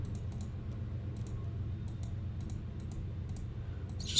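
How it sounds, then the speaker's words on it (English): Quiet, irregular clicks of a computer mouse and keyboard typing, close but faint over a low steady hum, with scattered single taps and short clusters. "Just clicking the alignment button here to get it centered."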